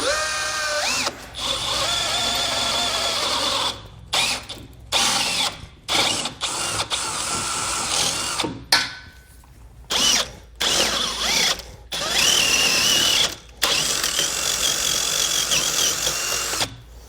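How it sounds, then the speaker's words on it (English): A power drill bores holes into the front of a 2018 Ford Edge to mount a Blue Ox base plate, a thick wooden block set behind the metal. Loud whining bursts start and stop repeatedly, with short pauses between them and no talking. "With our holes drilled out"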